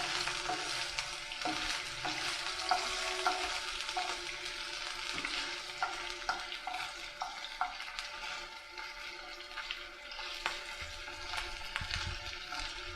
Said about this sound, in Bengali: পনিরটা একটু রেডিশ হওয়া পর্যন্ত আমরা ফ্রাই করে নিচ্ছি।